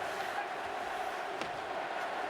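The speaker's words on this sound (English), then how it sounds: "the fans here Absolutely. at the MCI Center are cheering in unison" Hockey crowd at the MCI Center during a 1998 Stanley Cup Final game, cheering together in a steady roar, with a couple of sharp knocks rising above it.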